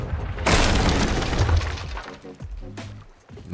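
Cannonball striking a ship's wheel in the pirate game Sea of Thieves, heard as a loud, sudden shattering crash of splintering wood that rings out and decays over a few seconds, with fainter rattling debris at the end.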